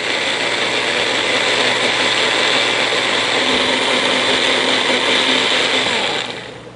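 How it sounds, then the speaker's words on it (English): A small bullet blender whirs at a steady, loud, high pitch while blending cashews into a cream, running evenly for several seconds before spinning down at the end. "So I have a little bullet right here. This thing comes in handy for everything, for smoothies"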